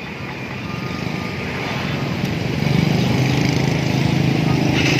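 A Honda CB150R motorcycle fitted with a lighter custom stock-style exhaust idles with a steady, continuous engine drone close by, growing slightly louder partway through.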